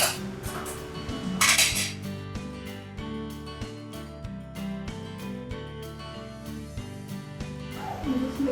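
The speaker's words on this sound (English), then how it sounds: "just make sure it's mixed well" A utensil stirs blue cake icing in a bowl, scraping and clinking against the sides in quick repeated strokes, close and fairly quiet with no voices.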